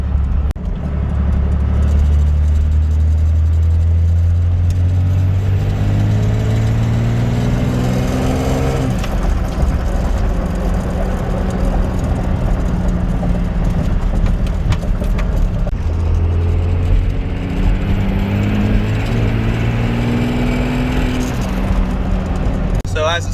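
A 12 valve Cummins diesel engine fitted with 60 lb valve springs and new delivery valves revs from about 1500 up to 2500 RPM, a loud, close, deep rumble rising and falling in pitch twice.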